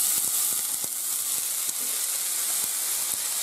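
Chopped onion sizzles in hot olive oil in a pan, a steady bright hiss scattered with small pops and crackles. No one speaks.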